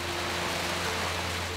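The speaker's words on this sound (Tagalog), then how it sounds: "Biglang bumuhos ang malakas na ulan." Heavy rain pours down near a school classroom, a dense, even hiss that stays loud and constant throughout with a low steady hum underneath.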